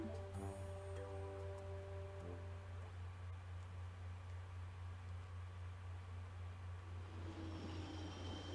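Train travelling in the YO-KAI WATCH 2: Psychic Specters video game, a steady low rumbling hum with faint chime-like tones early on, quiet and continuous with no talking.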